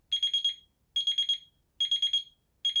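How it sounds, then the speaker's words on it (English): An OttLite lamp alarm clock beeps in quick bursts of four high-pitched beeps, each group repeating about every second, clear and alone in a quiet room. "the alarm is back on"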